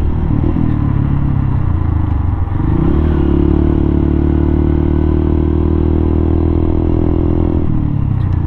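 Motorcycle ridden on a concrete road in Zamboanga del Norte, Philippines, with a loud steady engine drone and wind noise that shifts pitch as the rider changes speed, no talk.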